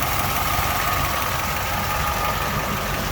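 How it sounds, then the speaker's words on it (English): A 391 cubic inch V8 engine with an oil bath breather in a 1955 Ford Crown Victoria Fairlane idles steadily with a low, even rumble and a faint hum, no talking. "It is 391 cubic inch engine."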